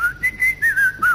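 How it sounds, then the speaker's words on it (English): Someone whistles a short tune in several clear, close, bright notes with small gaps between them, loud and alone. "she hates whistling"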